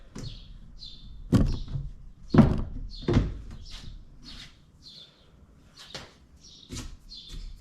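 Wooden kitchenette cabinet doors in a camper van build swing open and shut, with several sharp knocking closes and light creaking hinge squeaks spread across the stretch, fairly close and alone.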